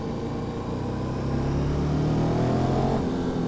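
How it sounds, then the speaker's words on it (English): A KTM 1290 Super Duke R motorcycle engine drones steadily on a wet road ride, a low continuous rumble that swells slightly in pitch, heard close with wind noise and no talk. "Oh, this bike just sounds fantastic, doesn't it?"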